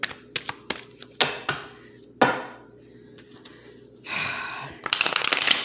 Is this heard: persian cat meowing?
no